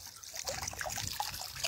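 Water trickles softly from a public fountain on a hill in Athens, a faint, steady dribble over low outdoor background noise.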